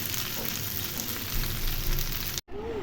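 A piece of meat frying in a pan, producing a dense, steady sizzle that fills the whole clip and cuts off abruptly near the end, with no voices over it.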